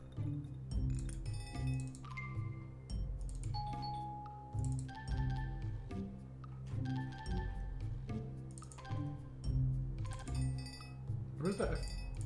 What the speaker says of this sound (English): It should play like a dong bell sound.